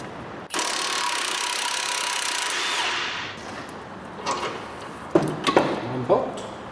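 An impact wrench or power tool runs steadily for about three seconds, loosening the 22mm strut bolts on a Toyota Avensis front suspension, then stops and gives way to a few clanks and handling knocks nearby.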